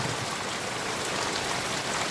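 Steady rain falls outside a home in a dense, even hiss of drops with no pauses or voices, moderately loud and close.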